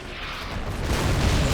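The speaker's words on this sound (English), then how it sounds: "Explosions look glorious." A deep, rolling boom swells and rumbles in a video game, a loud explosion that builds and sustains rather than cutting off.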